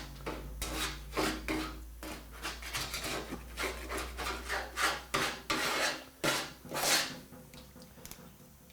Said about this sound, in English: the pleasure of scraping that area of the pan that's never been scraped